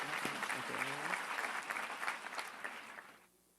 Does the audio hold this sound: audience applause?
yes